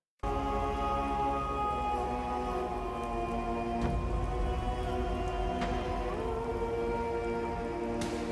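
Steady rain sound effect layered into a rap remix, a continuous hiss holding under tonal music from start to finish, fairly loud and even, with no talking.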